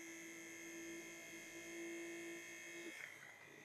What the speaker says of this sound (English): when I turn it on, it doesn't have lights, and we can hear the motor running